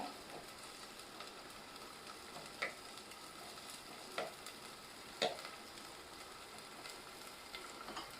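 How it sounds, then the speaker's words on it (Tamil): A large chopped onion fries in about three tablespoons of oil for a prawn head curry, making a soft, constant sizzle. A few sharp clicks of a utensil against the pan sound now and then, and no one speaks. "அரிஞ்சு வச்சிருக்கிற ஒரு பெரிய வெங்காயத்தை சேர்த்துக்கலாம் நல்லா வதக்கிக்குவோம்"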